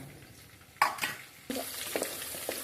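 Onions fry in a pan toward golden for a Kannur-style mackerel biryani. A quiet stretch gives way to bursts of sizzling and stirring scrapes, with a louder steady sizzle from midway. No speech is heard.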